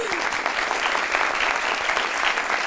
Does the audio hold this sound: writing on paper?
no